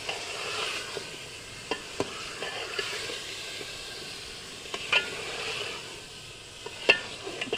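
Potatoes for an aloo baingan sabzi fry in a pan with a constant soft sizzle, broken by occasional scraping stirs and light clinks of the spoon close by.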